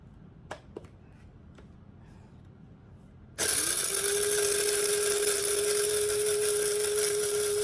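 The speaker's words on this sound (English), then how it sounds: "Now it's time to grind it up." Dried turmeric root is ground into powder by an electric grinder that starts abruptly after a few faint clicks, then holds a loud, steady, high-pitched whine without pause.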